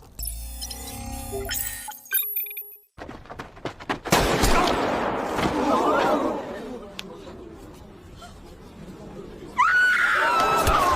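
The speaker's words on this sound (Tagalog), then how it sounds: "bakit may barilan dito?" Gunfire bursts and rattling shots fill a Squid Game edit, layered with music, electronic effects and voices talking over the chaos.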